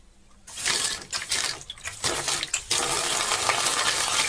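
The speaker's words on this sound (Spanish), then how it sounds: "comenzará a salir el agua limpia." Clean water gushing through a washing machine's water inlet solenoid valve after it has been greased and repaired, a steady loud rush with a few surging bursts, alone without talk.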